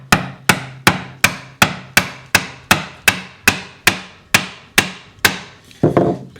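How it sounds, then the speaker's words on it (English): Mortise chisel pounded with a mallet through wood for a table joint, about thirteen sharp, evenly spaced strikes in quick rhythm, close and loud, without any talk. "I'm going to just keep with my mortise chisel and try to pound through it a little bit faster"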